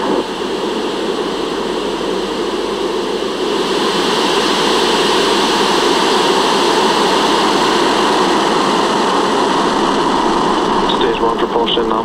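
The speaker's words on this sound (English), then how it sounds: "Ignition. And we have liftoff." SpaceX rocket engines roar at liftoff for a launch ending in a booster landing: a dense, continuous broadband rumble that holds loud and steady throughout with a slightly distant, broadcast-like quality.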